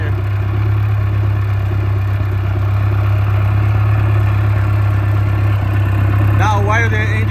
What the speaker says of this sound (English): Now while the engine is still running, you need to kill it with the fog oil